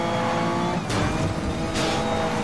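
A BMW M3 GTR in Need for Speed Most Wanted (2012) roars with loud, sustained engine noise, broken by two sharp whooshing passes or gear shifts, up close with no talk.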